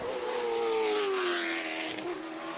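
Late-model CARS Tour race car at full throttle on an oval during qualifying at Orange County, a loud sustained engine drone whose pitch slides gradually down through a corner, tires faintly scrubbing, no talk over it.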